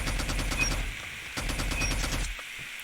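Rapid automatic gunfire from a video game weapon fitted with an OTM magazine, two sustained loud bursts of dense, evenly spaced shots with a short break between them and a quieter tail at the end.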